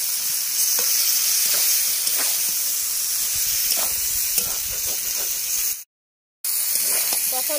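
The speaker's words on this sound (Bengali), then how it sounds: "এবার ভেজে রাখা গুগলি, আলু, বেগুন সব দিয়ে দিলাম। আরো কিছুক্ষণ কষিয়ে নেব।" Snails fried earlier, potato and eggplant stir-fried in spice paste for a snail curry, a steady close sizzle with scraping stirs, broken by a brief silent gap.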